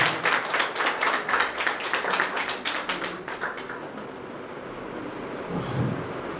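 An audience at a Punjabi bhajan performance applauds a brother-and-sister singing pair, with dense, close hand claps for about three seconds that thin out and fade into a low room hush.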